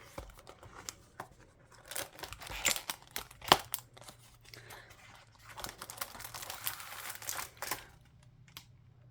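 Packaging for a diamond painting kit is handled and opened in bursts of close crinkling and tearing, with sharp rustles and short pauses between them and no talk.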